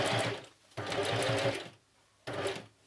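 A sewing machine stitches through thick pleated lolita skirt fabric in three close, steady bursts with short pauses between them and no talking.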